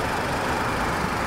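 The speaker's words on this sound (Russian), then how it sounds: "Двигатель работает классно, без всяких проблем." A 2013 Mazda CX-5 Sport engine runs at a steady idle, a continuous close rumble and hum with no breaks and no voices.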